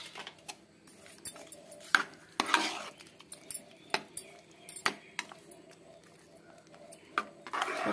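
Grated jaggery is stirred into hot milk for paramannam, a spoon scraping and clinking against the pot in irregular strokes over a faint simmer, close and fairly quiet with no talk.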